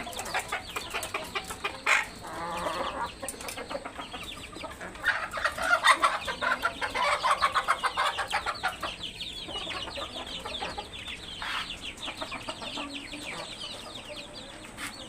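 Lyza and hill breed chickens with a large rooster on a poultry farm, clucking and cackling continuously at close range, with no one talking.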